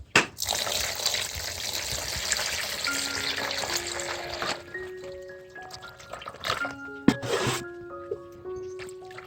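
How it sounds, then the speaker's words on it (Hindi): Water is poured slowly into a tub for planting water lilies, making a continuous splashing gush for several seconds that then thins out. Sustained tones follow the pouring. "अब इसके अंदर आहिस्ता आहिस्ता पानी भर दें।"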